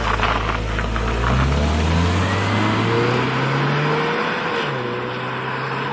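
Steady engine drone and road roar from inside a Saab 9-3 convertible driven on the road, with rising gear-by-gear pitch sweeps as it accelerates, loud and continuous throughout.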